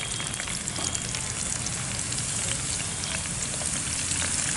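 Crushed onion drops into hot coconut oil infused with false daisy herb for hair oil, setting off a loud, continuous, dense crackling sizzle that holds steady throughout, close and unbroken, with no voices.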